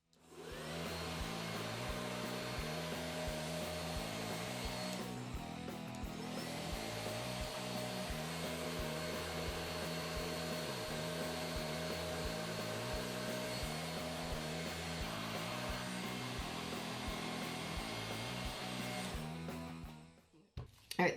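A hair dryer blows steadily on a freshly dyed cosplay wig, a continuous loud whirring airflow lasting about twenty seconds with a brief dip partway through, then cutting off at the end.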